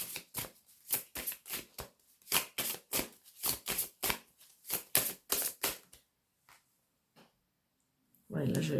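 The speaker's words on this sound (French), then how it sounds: "Je vais retirer une carte." Tarot cards riffled and shuffled in quick, dry bursts at close range, with short pauses between flurries, ending in a few soft taps and a brief rustle of handling.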